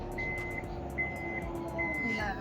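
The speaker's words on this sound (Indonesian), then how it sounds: "Bagasinya udah elektrik." The power tailgate on a 2017 Toyota Fortuner 2.7 SRZ TRD opens, sounding three sustained, evenly spaced electronic warning beeps over a low motor hum, fairly close.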